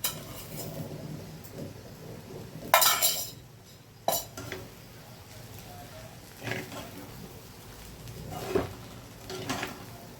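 Poha with sugar stirred and sautéed in a pan in a home kitchen, with a loud metallic scrape followed by scattered clinks and spatula knocks against the pan, mixed with intermittent talking.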